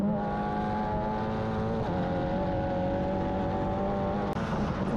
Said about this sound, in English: Now accelerating down the long back straightaway as we ride with the Future Star Racing driver.